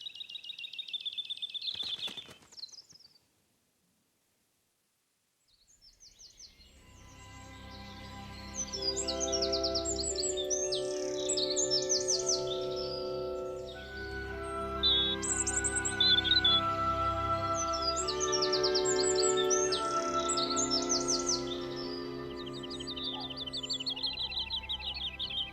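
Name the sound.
birds singing in the morning chorus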